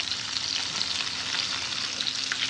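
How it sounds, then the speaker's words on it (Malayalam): Mackerel frying in a pan for a Ramadan meal, a steady close sizzle and crackle of hot oil that holds evenly throughout with no voices. "അയില ഫ്രൈ"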